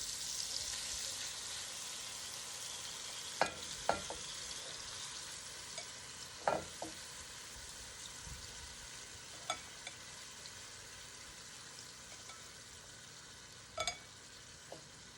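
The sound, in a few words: beef tips searing in butter and olive oil in a Dutch oven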